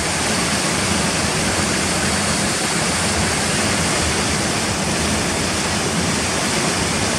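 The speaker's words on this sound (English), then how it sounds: "watch this lovely water coming down the waterfall" Steady, full-bodied roar of a waterfall pouring down, constant and close, with no voices or breaks.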